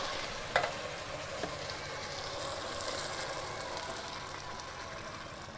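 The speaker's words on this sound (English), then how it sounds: "I'm gonna go ahead and add these tomatoes in." Whole tomatoes drop into a hot pan for tomato soup and sizzle steadily, with a sharp clatter as they land near the start, then an even, close frying hiss throughout.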